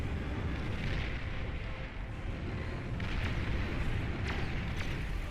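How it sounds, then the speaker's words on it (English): Missile launchers firing and explosions in the strategy game Beyond All Reason, a dense continuous rumble of blasts and booms with a few sharper cracks, moderately faint, with a voice talking over it. "Here come the missile launchers coming in."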